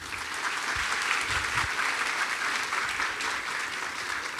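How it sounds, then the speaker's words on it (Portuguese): A theatre audience at a debate on an adaptation of The Merchant of Venice applauds with sustained, even clapping that fills the whole stretch. "tradução e adaptação minha e de Eva Procter, a quem também eu peço uma salva de palmas"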